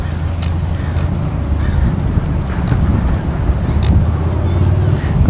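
Seabirds call on the beach at Santa Barbara near Stearns Wharf, scattered harsh cries rising over a steady wash of surf and wind, fairly loud and close.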